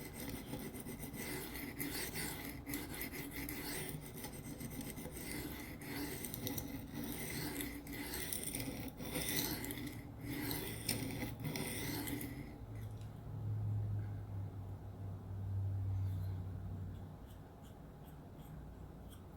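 An S110V steel knife stroked against a cheap aluminum oxide stone, giving a continuous gritty rasping scrape with steady back-and-forth strokes. It is loud and close for most of the clip, then drops to softer, duller rubbing near the end.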